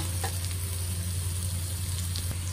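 Ginger and garlic fry steadily in a hot pan, a continuous close sizzle with a constant low hum beneath and a few faint clicks, no voices.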